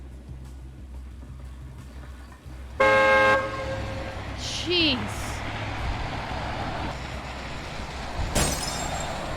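In the video game Venge, a car horn blares for about half a second, then a sharp crash with breaking sounds follows a few seconds later, and a voice speaks briefly.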